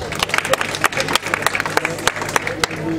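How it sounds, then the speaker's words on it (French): Applause from the audience at a welcome ceremony for new students at ISIC de Kountia, scattered claps with loud sharp bursts over a steady crowd murmur, with some background voices. "Dr Bangali Camara, que je vous demande d'applaudir de passage."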